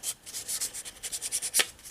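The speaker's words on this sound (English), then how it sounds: "you're going to need to clean off the head of your marker, whatever it may be. These graphite motor brushes do real well" The head of a marker is rubbed clean on a graphite motor brush during knife marking and sharpening: a quick run of light, rhythmic scrubbing strokes close by, ending in one sharper scrape.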